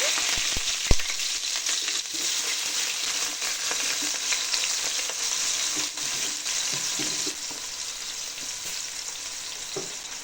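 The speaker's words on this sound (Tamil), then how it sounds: "இப்போ நம்ம வெங்காயம் ஆட் பண்ணிக்கலாங்க" Onions fry in hot oil with spices for mushroom biryani, making a continuous close sizzle with scattered crackles and the scrape of stirring, heard alone.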